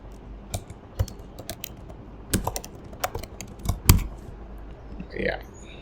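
Fingers type a password on a computer keyboard in scattered, uneven clicks and taps, close and fairly soft, with a brief faint voice near the end.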